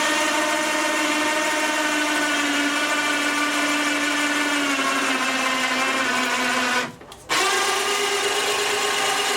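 A 1999 Johnson 30 HP outboard motor runs steadily in a test tank, a loud continuous engine drone with a brief dip near the end before it resumes.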